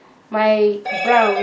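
A mobile phone rings loudly nearby in two long bursts of ringtone, during a flip cup acrylic pour painting session, with a voice speaking briefly over it.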